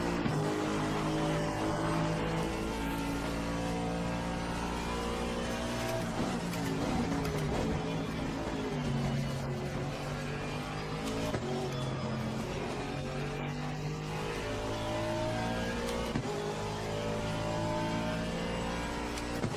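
Race car engine in a racing video game, revving loudly and steadily throughout with shifting pitch as the car accelerates and changes gears, continuous with no pauses.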